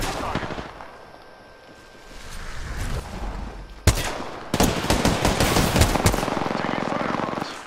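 Automatic gunfire in a first-person shooter video game, bursts starting partway through and then rattling on in dense, loud volleys; heavier blasts mix in, and near the end a voice speaks briefly under the shooting.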